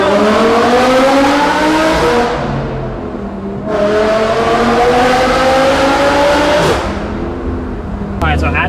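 A loud Audi R8 revs hard and close, rising in pitch in two long sweeping pulls with a brief drop between them, dominating everything else.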